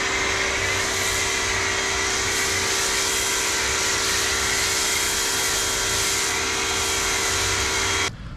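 A Ryobi 1800 psi, 1.2 gallon-per-minute pressure washer sprays steadily while cleaning the exterior of a Chevy Sonic, a loud continuous hiss with a constant motor whine that runs unbroken, then cuts off abruptly at the end.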